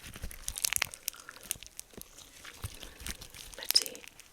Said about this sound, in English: Hear that crunch? This is supposed to be the crunchy one.